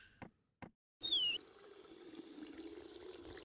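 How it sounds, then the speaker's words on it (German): A water tap in the kitchen of the video game The Kite runs in a steady trickle after a couple of short clicks, close and without speech. "Wasserhahn tropft. Können wir mal schauen, ob wir den abstellen."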